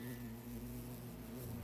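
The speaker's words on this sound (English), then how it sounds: "That sounds like bees." Buzzing bees in the video game The Hundred Line, a steady, low droning hum with a constant tone, faint and unbroken.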